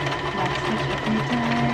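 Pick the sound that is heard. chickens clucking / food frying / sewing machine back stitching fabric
sewing machine back stitching fabric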